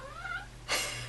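A cat meows to be let out, one drawn-out plaintive cry followed by a short breathy burst, close and fairly quiet over a steady low hum.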